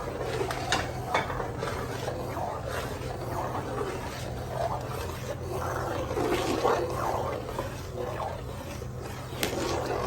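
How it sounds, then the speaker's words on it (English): A pot of dal with garlic tarka being mixed in, giving a close, continuous wet stirring and scraping with occasional light clinks of the spoon against the pot. "You just release that into the dal, and then you just mix that along."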